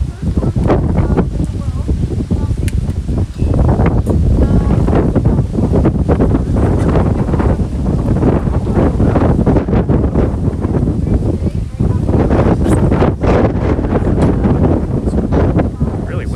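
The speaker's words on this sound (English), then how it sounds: "Really windy." Strong wind buffets the microphone aboard an Amsterdam canal tour boat, a loud continuous roar with gusty surges over faint water and engine noise.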